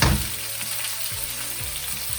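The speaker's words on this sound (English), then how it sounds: "And just stir that and let the onions cook down" Onions and curry leaves frying in a pan while cooking dhal, a steady close sizzle with occasional stirring scrapes throughout.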